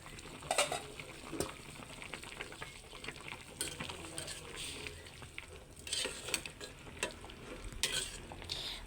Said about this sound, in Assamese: আৰু ইয়াতে মই এতিয়া খৰিচাখিনি ঢালি দিছোঁ।